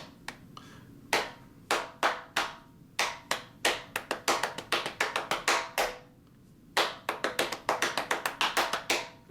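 Hands clap out a syncopated rhythm in quick, sharp bursts, close and loud, with short pauses between phrases and no talking, practicing a song part alongside a metronome.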